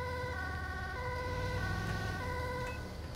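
An ambulance siren in the video game GTA 5 wails continuously at night, its steady rising and falling tones sounding over a constant low engine rumble, fairly loud and unbroken throughout.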